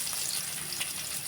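Chopped onions hit hot oil in a pan while making upma, producing a steady, fairly quiet sizzle and crackle of frying with no speech.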